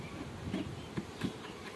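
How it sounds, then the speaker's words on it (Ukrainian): A young honey bee hums softly nearby, its buzzing faint and steady with a few slightly louder pulses as it moves about. "Молоденька бджола, вже льотна"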